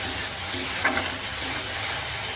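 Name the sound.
stir-frying spice masala with cumin powder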